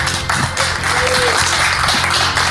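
Short burst of applause on a podcast as a tribute to a bassist, a loud, continuous crackle of clapping blended with music underneath.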